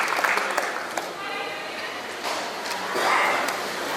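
Applause from an audience at a school's grand opening ceremony comes in bursts of clapping that swell and fade across several seconds, moderately loud, with some voices mixed in.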